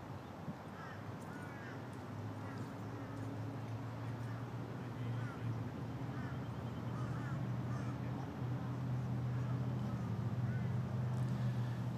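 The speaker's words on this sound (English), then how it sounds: "You can always hear the crows in the background." Crows cawing at a cricket ground beside a park oval, scattered calls rising over a steady outdoor hum and distant chatter across the whole stretch.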